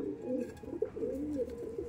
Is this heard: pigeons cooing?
yes